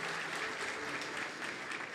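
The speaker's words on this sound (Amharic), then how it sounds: "አጨብጭቡላት።" A church congregation applauds at a worship service for a woman called forward for prayer, steady dense clapping filling the room throughout and cutting off at the very end.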